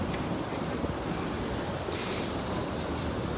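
Steady wind buffeting the open deck of the cruise ship Norwegian Pearl, a constant loud rushing roar with no pauses and no voices.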